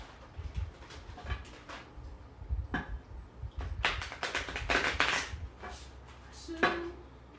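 A tarot deck being shuffled by hand close up, with a few soft papery riffles and slaps followed by a denser burst of quick shuffling, with no one talking.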